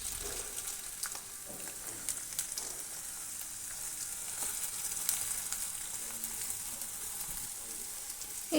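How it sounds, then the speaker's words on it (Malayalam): Chopped ginger frying in hot oil for a Kerala-style ginger curry, a soft, steady hiss of sizzling oil held at an even low level, with faint scattered crackles and no voices. "എണ്ണ ചൂടായി വരുമ്പോഴേക്കും ഇതിലേക്ക് നമ്മൾ അരിഞ്ഞു വെച്ചിരുന്ന ഇഞ്ചി ചേർത്ത് കൊടുക്കാം."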